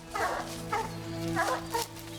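Hunting dogs bark and bay during a black bear hunt in a swamp, giving four or five loud yelping barks in an uneven rhythm over a steady outdoor background hum.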